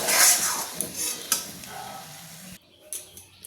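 Cooked banana flower curry scraped from a pan on the stove and served, with metal spoon scraping and clinking against the cookware, a soft sizzle underneath, then a sudden drop to near quiet with a few light taps.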